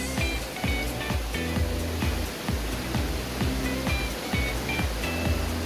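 Spring water flowing steadily outdoors at a riverside picnic spot below a waterfall, a continuous rushing wash close by, with a low rhythmic pulsing thump repeating underneath throughout.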